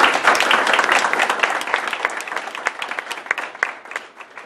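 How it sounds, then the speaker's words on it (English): Loud round of applause from an audience for school board candidates at a meeting, a dense wash of clapping that gradually thins and fades as individual claps become audible near the end. "could we have a round of applause for all the candidates?"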